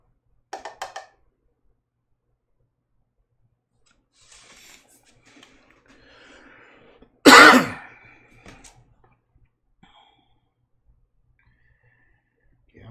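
One sharp, loud cough or throat clear stands out near the middle, preceded by a brief rasp and faint scratching in a quiet room.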